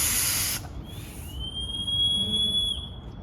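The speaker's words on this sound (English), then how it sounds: "We have a built-in whistle, and you've probably heard it a little bit." A Scott RIT pack rescue air system sounds its built-in air-driven whistle, a steady high-pitched tone that starts after a brief burst of hiss and holds for a couple of seconds, with no talk over it.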